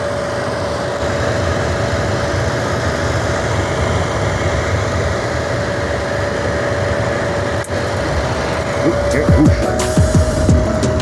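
An RV camper furnace runs with a steady low engine-like hum and whirring blower fan, a constant drone throughout with a faint tonal whine; near the end a few clicks and rattles come up over it.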